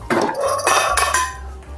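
Metal kitchen tongs and utensils handled and knocked together, several sharp clanking and clinking hits in close succession, near and fairly loud, with no talking.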